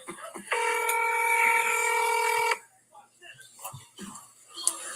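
A telephone rings on an unanswered call, one long electronic ring tone for about two seconds, followed by quiet whispery voices and small clicks.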